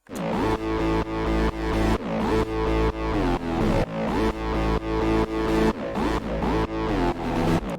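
Punchy synth bass notes repeat in a steady rhythmic pattern, each hit swelling and cutting off, loud and alone without any voices.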